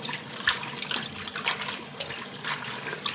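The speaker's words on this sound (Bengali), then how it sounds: "এই যে শাকগুলো আমি ধুয়ে নিব।" Leafy greens being washed by hand in water, with splashing and sloshing close by in irregular pulses and a soft trickling texture underneath, with no talking.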